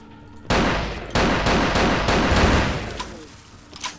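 Loud gunfire rings out in the Vampire: Bloodlines video game, with several close bursts of rapid shots run together into a sustained volley and a couple of sharper single cracks near the end.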